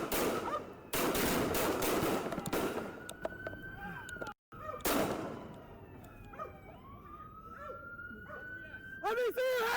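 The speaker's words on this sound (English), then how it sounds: "The officer fired approximately 10 gunshots" A police officer fires a rapid volley of about ten gunshots at an armed suspect, sharp loud cracks in quick bursts under shouting voices, with a siren wailing in the background.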